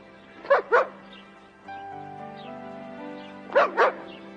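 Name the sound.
dog Rex barking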